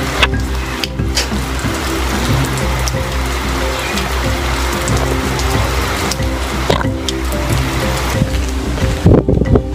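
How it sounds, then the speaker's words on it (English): Steady rain falling outdoors in Usha Village, a continuous broad hiss of drops that fills the scene evenly, with a few sharper patters and clatters toward the end and no talk. "The first time it's rained since I've been here, and it's so beautiful."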